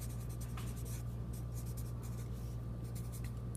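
Notes written by hand while working a geometry problem: close, continuous scratchy strokes on paper in short bursts over a faint steady hum.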